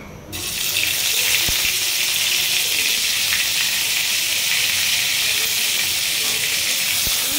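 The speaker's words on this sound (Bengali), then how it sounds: "আর এখানে হচ্ছে আলু ভাজতেছে" Potatoes frying in hot oil give a steady, loud, close sizzle that holds without a break, with faint clicks now and then.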